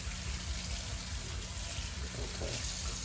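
A kitchen faucet pours steadily into a sink being filled for washing dishes, a close, continuous splashing rush that stays level throughout.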